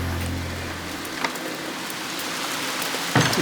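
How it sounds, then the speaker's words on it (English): Steady rain falls outside a cottage under renovation, a continuous close hiss with a few louder drops and splashes standing out; no voices. "Some of you might think it's good though, a bit of rain."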